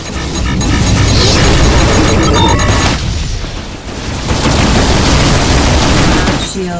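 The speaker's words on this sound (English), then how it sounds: "Missile inbound." An incoming missile blast in the space combat video game Rebel Galaxy Outlaw gives a loud, sustained roar of booms and crackling explosions, easing briefly in the middle before surging again, with a voice speaking briefly over it.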